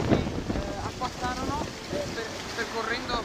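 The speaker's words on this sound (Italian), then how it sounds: "si scatenò un vento forte come adesso" Strong wind gusting outdoors along a street beside a school wall, a broad steady roar of rushing air buffeting the microphone, with a voice speaking faintly underneath.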